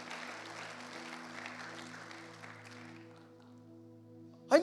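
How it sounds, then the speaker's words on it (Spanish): A church audience gives a short burst of applause, which fades into a sustained organ-like tone under it. "Fuerte ese aplauso."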